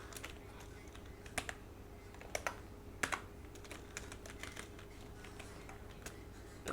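Rapid typing on a computer keyboard, with irregular clusters of light key clicks and a few sharper strokes over a steady low background hum, close and moderately loud, with no talking.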